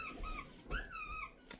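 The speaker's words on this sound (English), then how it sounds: "He likes to play with them squeakies." A dog plays with a squeaky toy, making repeated rubbery squeaks in quick uneven bursts, fairly faint and close, with no voices.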